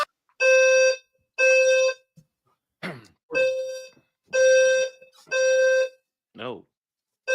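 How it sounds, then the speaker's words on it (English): A fire alarm blares in repeated loud electronic tone bursts, roughly half-second pulses with short gaps, mixed with brief spoken interjections and a sliding beep between them. "I got a fire alarm."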